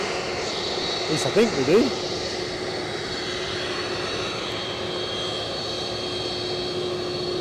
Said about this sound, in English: Somebody on finals, that'll be the Brussels Airlines.